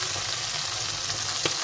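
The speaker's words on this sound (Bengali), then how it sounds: "এভাবে করে আমি মাছগুলোকে ভেজে নিই" Bata fish fries in a hot wok of oil, a brief, even sizzle that stays steady and moderately close, with a light tap near the end and no voices.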